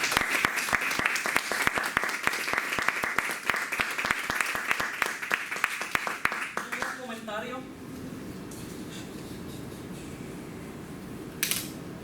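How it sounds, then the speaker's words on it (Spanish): Audience applause at a talk on art and urbanism, dense clapping for about seven seconds that then fades into quiet room murmur with a brief noise near the end. "pero un aplauso para..."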